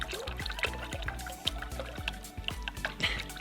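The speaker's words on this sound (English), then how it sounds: "I'm just trying to get rid of as much of the fizz as we can." Red Bull energy drink being stirred or poured to knock out its carbonation, with a steady liquid sloshing bed and repeated soft drips and splashes about twice a second, close and moderately loud with no talking.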